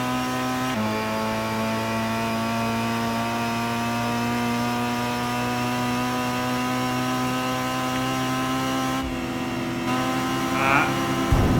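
Racing car engine in Gran Turismo 5 droning at high, steady revs with a sustained whining tone, briefly shifting pitch mid-run, then dropping away near the end before revving again.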